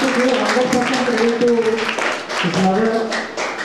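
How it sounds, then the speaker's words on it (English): Audience applause for a student named Raj at a school cyber-crime awareness event, dense and loud throughout, with voices mixed in under the clapping. "So big round of applause to Raj."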